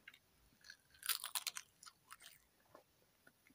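Crunchy spicy seaweed snack being chewed close up, a burst of crisp, crackling bites followed by softer, intermittent crunches fading out, with no talking.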